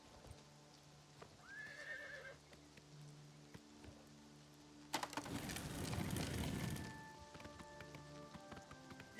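A horse neighs once at moderate distance in the video game Oblivion Remastered, followed by a loud burst of hooves and rustling that fades out, with soft ambient noise around it.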